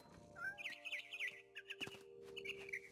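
A frightened bird chirps in the video game What Remains of Edith Finch, giving a quick run of bright, high tweets and short calls that are faint and clear, with no talking.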